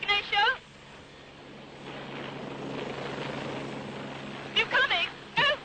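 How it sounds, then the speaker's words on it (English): Helicopter rotor and engine noise from a landing on a cliff in Mallorca, a steady broadband whir and drone filling the middle, with voices talking loudly at the start and end. "I just got out of the helicopter."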